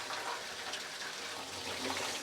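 Water gushes from a motor pump pipe while a pond is drained for fish catching, a steady broadband rushing at moderate level throughout.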